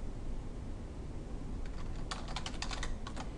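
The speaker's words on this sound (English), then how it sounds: "we're going to click on cell A4, and we're going to type the word wages." Quick bursts of keystrokes on a computer keyboard while entering a word into a spreadsheet cell, close and clear over a steady background hiss, starting halfway through, with no talking.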